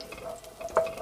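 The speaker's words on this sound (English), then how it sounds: "We start hearing the sizzling sounds of the garlic." Soft, brief sizzling of garlic frying in hot oil for fried rice, with a light clink of stirring near the end.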